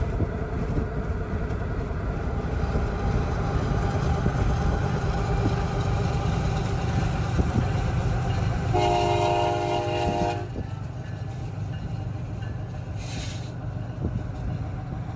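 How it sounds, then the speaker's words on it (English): A train rumbles steadily past at close range, a loud continuous roar of wheels and cars, with a sharp horn blast partway through before the noise eases slightly. "it's not very often that you see the front of trains. Like usually you see one going by"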